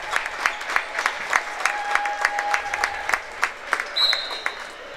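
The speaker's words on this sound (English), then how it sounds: "And they'll get a standing ovation from the crowd here at the Miller Family Arena." Crowd at a girls' tournament basketball game in a gym arena claps and cheers in a sustained standing ovation, a dense patter of applause with sharper individual claps, a couple of whistles and a brief shrill tone near the end.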